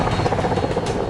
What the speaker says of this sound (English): the Indian Air Force's brand new Apache attack helicopters